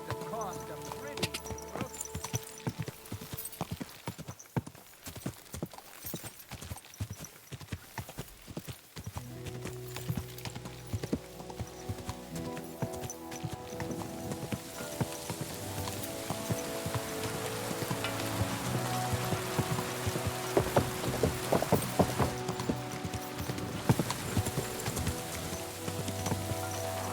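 Horse hooves clip-clop steadily in Kingdom Come: Deliverance II, a medieval open-world game, with rain pattering on the ground and background music swelling partway through; a voice speaks over it.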